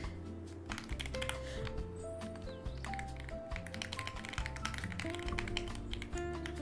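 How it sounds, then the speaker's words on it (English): Rapid clacking of keys on a computer keyboard, continuous and close, with bursts of quick strokes over a low steady background tone. "I don't know if the keyboard ASMR is good or not."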